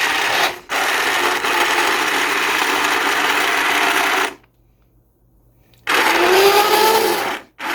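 Hand blender whirring through hot black bean soup in a kitchen, a loud close motor buzz that runs for several seconds, stops briefly, then starts again.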